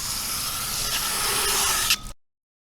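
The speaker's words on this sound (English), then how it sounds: "I'll rinse it and dry it in a time lapse." Water spray hisses steadily while a car is rinsed off after a bug remover treatment, a loud continuous broadband rush that cuts off abruptly near the end.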